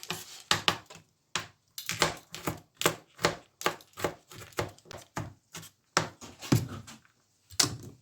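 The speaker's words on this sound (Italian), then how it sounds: "Ho iniziato a tritare le verdure, cipolla, sedano e carote." A knife chops onion, celery and carrots on a board in steady, crisp strokes, pausing briefly now and then. There is no talking.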